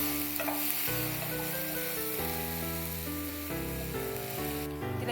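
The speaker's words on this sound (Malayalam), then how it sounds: "നന്നായി മൂപ്പിക്കുക." Five green chillies, sliced lengthwise, fry in a pan for a Thrissur-style beef and koorka stir-fry, giving a soft continuous sizzle beneath background music.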